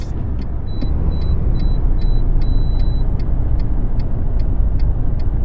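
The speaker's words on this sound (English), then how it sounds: "See, I don't understand why this truck stalls." Truck in American Truck Simulator, a loud low engine rumble running steadily with a regular rhythmic ticking over it, no talk heard.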